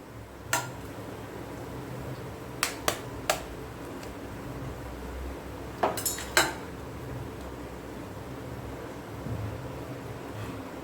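Eggs cracked into a hot oiled pan for chicken egg fried rice, heard as a few sharp clicks and taps of shell on metal, one near 0.5 s, a cluster around 3 s and another near 6 s, over a faint steady hum.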